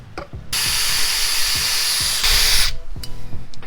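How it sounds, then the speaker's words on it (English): A power drill boring a hole while installing boat rod holders whines steadily for about two seconds, close and loud, with its pitch shifting near the end before stopping. "So I'm going to drill the hole there."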